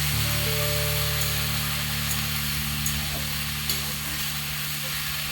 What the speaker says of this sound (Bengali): এবার একটু আমি নাড়া দিয়ে দেব।